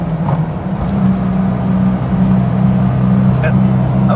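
A Fiat 500 engine held in neutral and given a blip of throttle, a loud steady low drone with a faint rise in pitch, close up, no other sounds on top.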